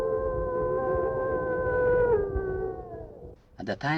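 A single sustained wolf howl holds steady then fades over a low rumbling background, answering a wolf call, followed by a brief harsh burst at the end.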